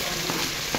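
Green chillies frying in hot oil with ginger and garlic, a short burst of dense, even sizzling close up with faint stirring.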